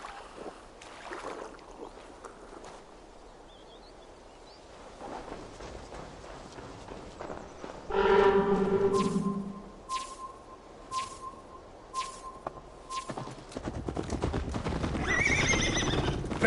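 Horse neighs and hoofbeats in a Viking-era open-world video game, with loud whinnying bursts around the middle over a steady ambient bed, followed by clopping and movement near the end.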